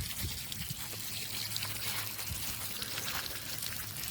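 Water trickles and splashes steadily from a garden watering line in a community vegetable garden, a continuous soft hiss with no voices.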